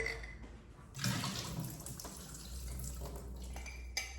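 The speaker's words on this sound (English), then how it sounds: "So I'm gonna pour this water out" Water is poured out of a container in a home kitchen in a steady splashing stream lasting a few seconds, close and fairly soft, with no talking.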